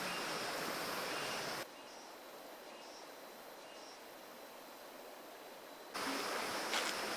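Jungle river water in Bukit Lawang, Indonesia, rushing steadily as someone wades through it, a soft continuous wash that briefly drops quieter mid-clip before swelling back.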